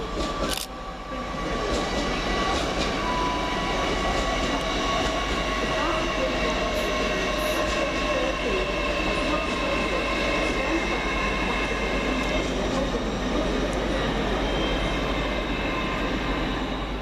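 Great Western Railway class 800 unit 800 001 pulls into Reading station with a steady, loud rumble and hiss, a constant drone from its engines and wheels holding throughout the approach.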